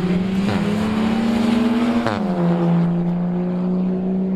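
A BMW 530 Diesel races down a quarter-mile drag strip at Brilon, its engine droning loud and close with clear gear-change dips in pitch, and no voices over it.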